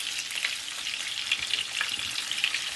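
Saltimbocca sizzles steadily in a hot frying pan, a dense crackling hiss with small pops, no voices.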